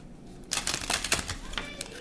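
A deck of cards being shuffled by hand during a card reading: a quick burst of papery riffling and snapping begins after a short pause and continues close and fairly loud, with no voices.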